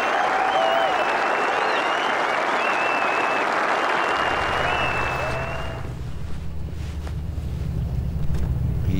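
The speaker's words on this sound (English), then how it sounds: "and the cheering starts again" A golf gallery at the Open Championship claps and cheers in a broad, loud wash of applause with a few whistles, set against heavy wind noise, then fades to gusty wind.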